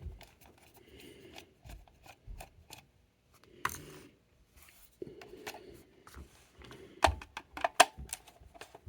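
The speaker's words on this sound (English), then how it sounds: "So we're just going to take the screws out." A number 2 magnetic-tipped Phillips screwdriver works the screws out of a vintage TIE fighter toy: sparse close clicks, small scrapes and plastic taps, quiet and irregular, with brief pauses.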